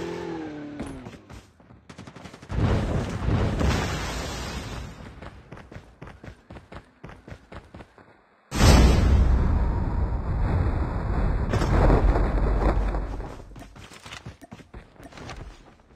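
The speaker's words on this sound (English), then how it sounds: "Vehicle is about to explode" Explosions and rapid gunfire in a Call of Duty battle royale match: a sharp blast near 2.5 seconds, then a louder, heavier burst around 8.5 seconds followed by sustained crackling and rumbling debris.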